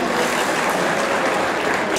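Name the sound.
audience applause at a ball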